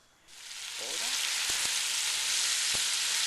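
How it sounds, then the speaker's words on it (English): Chuck roast and onions browning in a pot sizzle loudly, rising from quiet to a dense, steady crackle, with a few sharp clinks partway through. "As you can see, I am browning the chuck roast"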